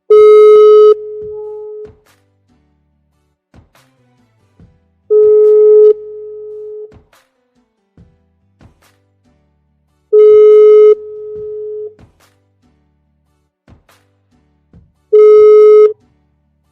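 A telephone busy signal sounds on an unanswered call-in line to a live show, in four loud, steady beeps about five seconds apart, each followed by quieter faint clicks and line noise, with no voices.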